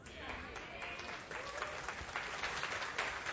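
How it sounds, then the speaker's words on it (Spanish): A church congregation applauds during a Spanish-language sermon, a fairly quiet, thin patter of clapping that builds slightly, with voices present underneath. "Ese aplauso está muy flojo para Dios"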